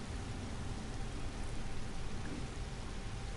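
Steady rain in Skyrim falls without a break, a dense even hiss with a soft low rumble beneath it, moderately loud and unbroken throughout with no voices.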